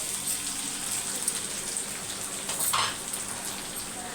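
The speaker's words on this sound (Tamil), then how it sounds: "இப்போ வெங்காயம் வந்து வதங்கட்டும்" Onions sautéing in a pan for pepper rice give off a steady, even sizzle that hisses like light rain throughout, with no talking.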